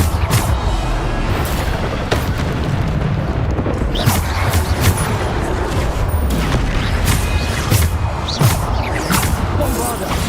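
Bombarda explosion spells in Hogwarts Legacy, a dense, loud barrage of repeated booming blasts and crashes throughout, with spoken spell names mixed in.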